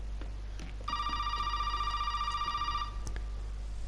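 A telephone rings in the video game Resident Evil 7, one steady electronic trill lasting about two seconds, loud and clear against a low steady hum, with no talking over it.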